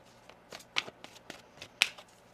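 Tarot cards being shuffled by hand, a few brisk riffling bursts with soft flicks between them, close and fairly quiet, with no talking.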